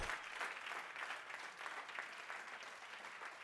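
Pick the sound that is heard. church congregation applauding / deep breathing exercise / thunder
church congregation applauding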